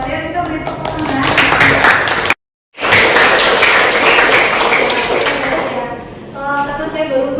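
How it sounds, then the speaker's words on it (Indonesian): A classroom of students gives a student a round of applause: dense, sustained clapping that breaks off briefly and resumes, mixed with voices talking over it. "Kita beri tepuk tangan."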